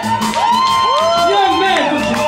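Concert crowd at a blues show cheering and whooping loudly, a continuous roar of voices with shouts rising over a band's sustained tones throughout.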